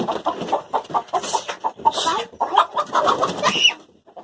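Chickens clucking in a backyard while someone tries to catch a hen, with short, irregular calls repeating close by throughout.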